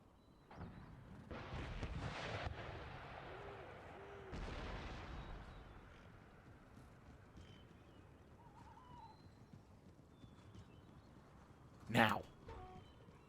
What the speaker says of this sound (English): Cannons opening up. That's normal.